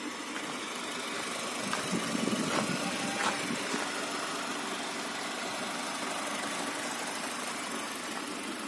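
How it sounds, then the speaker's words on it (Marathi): A Honda City car engine idling steadily after being push-started with a drained battery, a constant mid-level rumble with a few faint clicks, close by and alone without talk. "हे बघा इकडे आपली गाडी उभी आहे, आता स्टार्ट करून जरा ओपन ठेवली आहे तिला"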